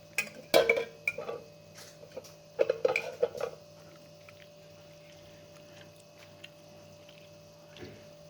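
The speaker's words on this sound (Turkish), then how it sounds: "Şöyle az bir şey karıştıralım" A spoon stirs melting wood finish in a metal container, giving a few clinking scrapes in short clusters over a steady low hum, then quieter occasional taps.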